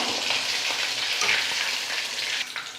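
Masala-coated fish pieces, already turned to cook on both sides, fry in a pan with a dense, steady hiss of sizzling oil, close up and unbroken.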